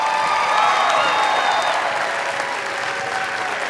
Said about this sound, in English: so huge round of applause for that as well